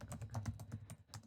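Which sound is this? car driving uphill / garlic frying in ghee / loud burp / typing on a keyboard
typing on a keyboard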